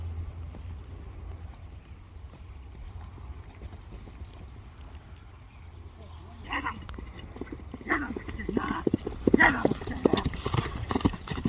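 A tall dark-bay horse at a sale, its hooves clip-clopping faintly at first and then louder and closer toward the end, with background voices talking.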